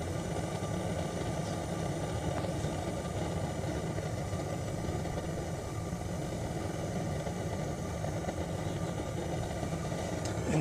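An old hot-tube engine housed in a shed keeps up a low, steady idling rumble with even mechanical vibration throughout, no talk over it.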